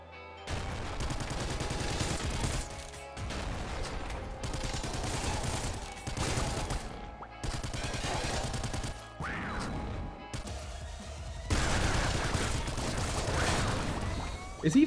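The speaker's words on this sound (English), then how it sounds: "Is he firing explosive shots?" Rapid bursts of explosive gunfire and blasts from the video game Nuclear Throne, in dense volleys separated by brief pauses, loud and close, with a voice talking faintly underneath.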